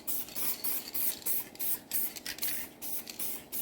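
Adhesion promoter sprayed from an aerosol can onto a cracked Jeep XJ dashboard gives a quick series of short, close hissing bursts in an uneven rhythm, with no voices.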